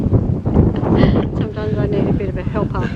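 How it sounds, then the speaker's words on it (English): Gusty wind buffets the microphone at a lookout high above Kakadu, a continuous rough roar under people talking close by. "it's pretty windy"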